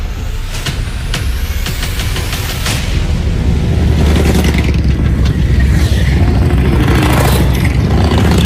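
Motorcycles on a tourism ride out to lakes rumble and rev loudly and continuously, engines and wind noise filling the clip and swelling in intensity toward the end, with no talk.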